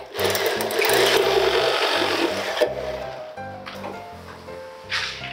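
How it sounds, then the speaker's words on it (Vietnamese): Drilling holes while installing a steel fire door frame, a loud rhythmic mechanical chatter with pulsing low thumps in bursts that pause and resume, close by and without speech. "Chúng ta sẽ khoan 3 điểm."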